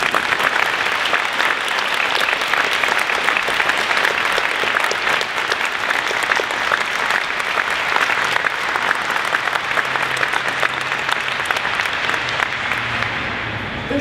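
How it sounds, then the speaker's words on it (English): Sustained audience applause at a 2019 graduate celebration and awards ceremony, dense and even clapping from a large crowd lasting throughout, tapering slightly at the end. "please join me in a round of applause in support of all of our outstanding graduate students"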